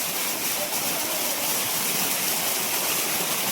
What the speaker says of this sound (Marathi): आणि हा धबधबा बघा